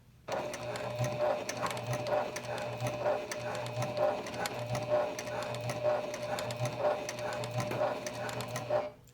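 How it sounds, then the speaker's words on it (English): A Janome HD9 sewing machine stitches at a steady pace, with rapid rhythmic mechanical clattering and a low motor hum that stop abruptly at the end, close and fairly quiet. "So I haven't changed the needle. Just gonna sew."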